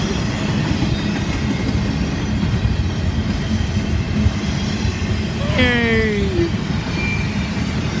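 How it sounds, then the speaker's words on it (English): A long freight train of empty juice cars rolls by with a steady loud rumble and rattling of cars; a brief shout and a metallic squeal rise partway through. "Oh, juice train! Yeah! Empty juice cars."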